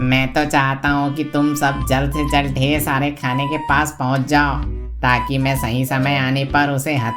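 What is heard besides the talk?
No everyday noises stand out.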